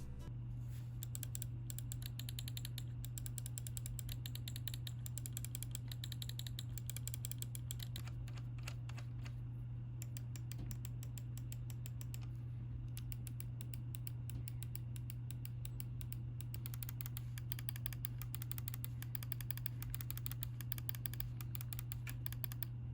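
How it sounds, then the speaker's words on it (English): Z100 Lite mouse buttons click in fast, light, irregular bursts over a steady low electrical hum, soft and close with no speech. "Mouse 1 and 2 buttons are decent. They aren't very clicky, but they each have their own unique sound."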